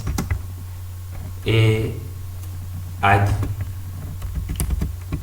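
Computer keyboard keys clicking in scattered taps during software download steps, close and moderately loud over a steady low hum, with someone speaking French in two short bursts.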